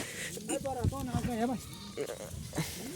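Goats bleating close by, several wavering calls in quick succession, some overlapping, in a farm setting.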